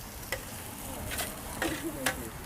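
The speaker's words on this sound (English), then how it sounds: "Love that sizzle." Soft continuous sizzling of gyro meat cooking on a rotisserie spit, with a few faint clinks and scrapes over it; close and fairly quiet.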